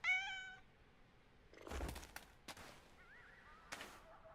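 A cat in PowerWash Simulator 2 gives one clear meow, followed by a few sharp bangs and short, faint chirpy game sounds over a quiet background.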